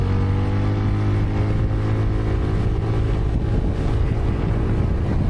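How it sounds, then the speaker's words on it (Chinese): A Zontes 368G scooter in Eco mode accelerates along a straight, its engine droning steadily under heavy wind rush at the microphone, loud and continuous throughout. "然后转到这个大直道，我们拉一把，看一下 Eco 模式的一个加速能力。"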